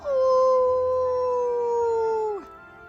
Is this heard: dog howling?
yes